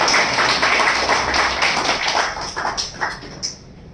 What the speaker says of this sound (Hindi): एक बार चाहूंगा सर के लिए एक जोरदार ताली